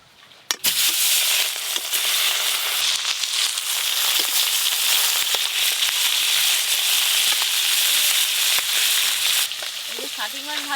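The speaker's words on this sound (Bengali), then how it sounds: "প্রথমেই শাটিং মাছগুলো ভেজে নেব।" Shatting fish fry in hot oil with a loud, steady, hissing sizzle that runs almost unbroken, marked by a sharp clatter at the start and occasional crackles and pops.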